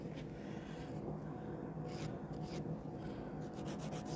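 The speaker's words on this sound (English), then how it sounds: "I know, super boring filing" Nail file rasping gel polish off fingernails, a quiet continuous scratchy rubbing with short back-and-forth strokes, close up and alone.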